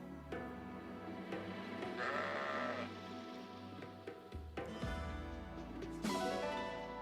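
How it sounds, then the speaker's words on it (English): Sheep bleating in the video game Fire Emblem Engage, several drawn-out wavering calls in succession, clear and close over a soft background hiss. "Yes, come along, sheep."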